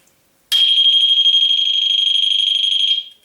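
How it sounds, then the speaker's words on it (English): A Swanson portable battery-powered intruder alarm rated at 110 decibels shrieks with a loud, piercing, steady high-pitched tone that starts abruptly, holds for about two and a half seconds, then cuts off. "it goes off with a 110 decibel alarm"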